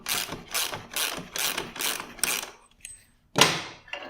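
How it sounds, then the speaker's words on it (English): Ratchet wrench loosening the main axle nut during chain tension adjustment, six quick bursts of rapid clicking followed by a pause and one more burst, close and loud with no talk. "Next step, loosen off the main nut on the axle."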